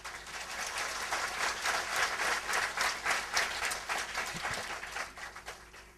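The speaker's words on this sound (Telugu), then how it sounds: "చప్పట్లు మంచి జోరు కొడుతున్నారు" An audience at a Sri Viswa Guru Purnima spiritual discourse claps vigorously, producing a steady, dense wash of applause at moderate distance for several seconds with no talking.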